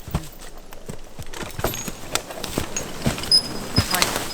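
A logging horse working in a forest, its hooves clip-clopping in an irregular series of close, distinct thuds, with scattered handler calls and rustling around it.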